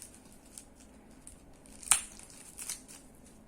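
A plain plastic zip-lock bag is pulled open while unboxing the board game Lost Ruins of Arnak: one sharp, close crackling rip near the middle, then a softer crinkle, over faint rustling.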